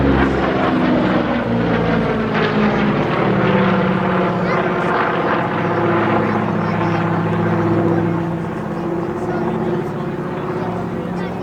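A Douglas DC-6 propeller airliner flies past at an air show, a loud, steady piston-engine drone with a throbbing low hum that holds for the whole stretch and eases slightly near the end, with a voice talking over it.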